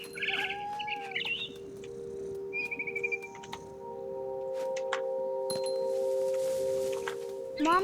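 A frightened bird in the game What Remains of Edith Finch gives a run of high chirps and a quick fluttering of wings over a steady ambient hum, fairly quiet and close, with no talking.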